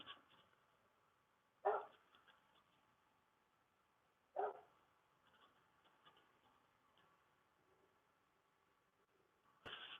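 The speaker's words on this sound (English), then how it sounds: "I've got a stupid dog out there barking wanting me in" Dog barking outdoors, three short separate barks spread over several seconds, muffled and somewhat distant above a quiet background hum.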